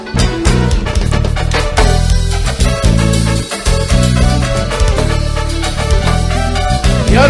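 A live band in concert in 2000 plays loud Latin music while the audience claps along in a steady rhythm of sharp beats mixed into the music.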